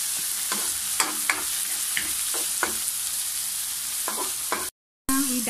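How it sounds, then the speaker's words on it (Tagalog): Tomatoes sauté in a pan for seafood cooked in coconut milk, giving a dense, steady sizzle with intermittent scraping stir strokes close up, then a brief silent gap. "Gisa lang muna."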